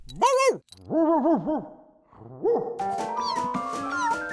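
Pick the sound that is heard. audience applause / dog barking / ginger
dog barking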